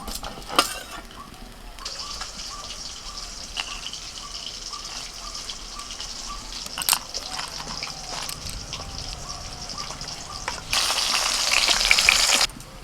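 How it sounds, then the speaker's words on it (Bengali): Fish shallow-frying in hot oil for a cauliflower-leaf dish, a steady close sizzle with occasional pops and clatters, swelling louder near the end. "মাছগুলোকে একটু হালকা লাল করে ভেজে তুলে নিচ্ছি।"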